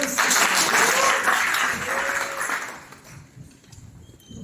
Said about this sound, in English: Please clap hands for yourselves.